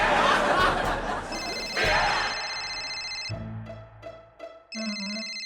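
Laughter and chatter give way to an electronic phone ringtone that plays in bursts, briefly pausing before resuming.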